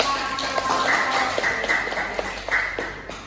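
Classroom of students applauding together, a dense, steady patter of many hands with scattered sharper claps, while voices murmur underneath throughout.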